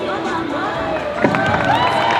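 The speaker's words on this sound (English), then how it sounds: "a round of applause, ladies and gentlemen" Audience at a Taualuga Productions 2022 dance recital cheering and shouting in a dense, steady crowd roar, with excited voices rising and a louder swell partway through.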